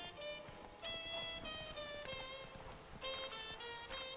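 Geralt's horse Roach trots in Witcher 3, its hooves clip-clopping steadily under a bright, tonal game soundtrack, with no talk.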